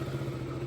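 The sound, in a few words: motorcycle engine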